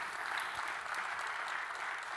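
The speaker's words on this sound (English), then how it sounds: "So please give Arnaud a welcome and an applause." Steady applause from an audience at a tech industry summit, even and sustained throughout without breaks.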